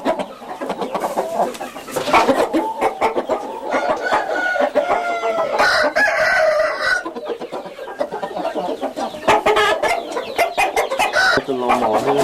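Chickens cluck close by while a rooster crows, the busy barnyard calls overlapping in a loud, continuous stretch with a voice faintly under them.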